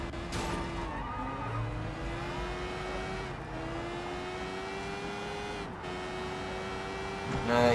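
Car engine in Sleeping Dogs droning steadily with rising revs and tire skids as the vehicle drives and slides, fairly loud and close throughout, with a brief burst at the end.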